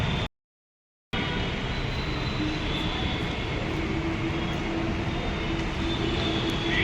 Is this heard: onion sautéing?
no